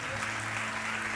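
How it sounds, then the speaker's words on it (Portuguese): A short burst of dense applause from a church congregation, steady and close, with no voices over it. "Vamos aplaudir a Jesus pela vida desses irmãos?"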